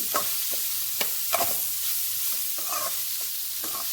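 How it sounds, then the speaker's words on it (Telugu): Bitter gourd fries in a pan while being stirred back and forth, a constant soft sizzle broken by repeated scraping strokes at an even pace. "అటు ఇటు కలుపుకోండి లేకపోతే అడుగు మాడిపోతుంది"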